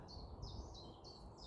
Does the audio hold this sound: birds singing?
yes